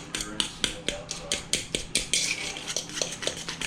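Deviled egg filling with mustard and Cajun seasoning is being mixed in a bowl, giving quick rhythmic clinks and scrapes of a utensil, about three or four strokes per second, close and fairly quiet.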